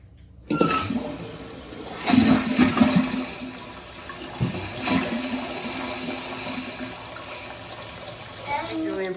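A newly installed toilet in a basement bathroom fills with water through a freshly connected supply hose, a steady rushing flow close by with surges, while a voice speaks briefly in the background.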